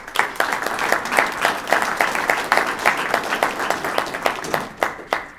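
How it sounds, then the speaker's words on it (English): Steady applause from an audience at a university event, distinct hand claps close by over a softer wash of crowd clapping, continuing evenly throughout. "would have to be Ralph Cottle who starts an applause for me"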